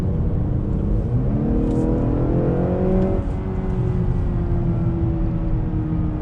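A 2019 Honda Accord Sport 2.0T sedan accelerates hard while holding a gear. A loud, steady engine drone rises in pitch for several seconds inside the cabin, with no talk over it.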